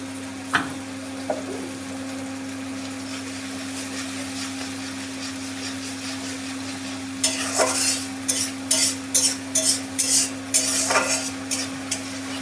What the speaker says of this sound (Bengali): এবার মশলাটাকে ভালো করে কষিয়ে নিতে হবে।